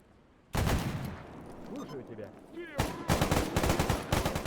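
Bandits open fire in S.T.A.L.K.E.R. GAMMA, a sudden loud burst of gunfire followed by rapid automatic volleys close by, with a voice speaking between shots.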